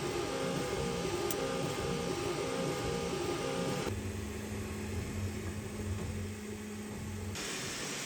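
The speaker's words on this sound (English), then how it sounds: "we're just gonna press start, and it's going to start printing right away." A Creality K2 Plus 3D printer runs a print job, giving off a steady mechanical hum with layered tonal motor whine that shifts pitch partway through, close and continuous with no talking.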